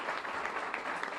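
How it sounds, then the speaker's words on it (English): Audience applause at a university event announcing a World Cup base camp, a short burst of dense clapping at steady, moderately loud level. "Give Ross a little round of applause."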